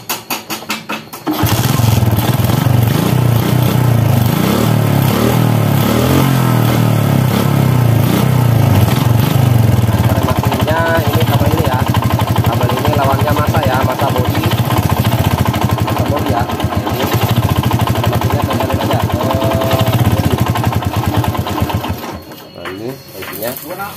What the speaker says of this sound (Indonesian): Coba kita tes motornya. Hidup apa enggak motornya ya.